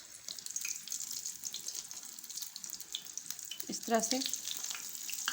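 Aloo macaroni cutlets fry in cooking oil over a very low flame, giving a soft, continuous sizzle and crackle with a few brief bubbling pops, heard under faint speech.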